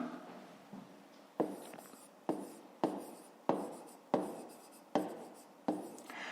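Pen writing in a notebook during a math exercise, a series of close, quiet scratching strokes that each start crisply and trail off, repeating at a steady pace.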